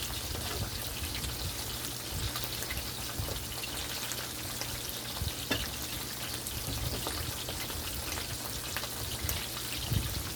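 Steady crackling sizzle of seasoned herring (sprat) frying in hot oil, a dense continuous spatter with occasional louder pops.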